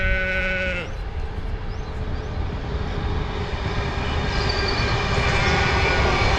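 A sheep bleats once at the start, a wavering cry, then fades under the loud, steady rumble of a passing train.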